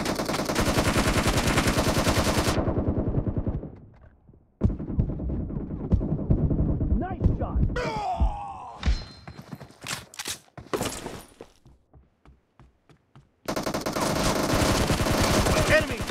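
Gunfire in the mobile battle game BGMI: dense, sustained bursts of rapid automatic fire open and close the stretch, with scattered single shots, clanks and quieter gaps in between.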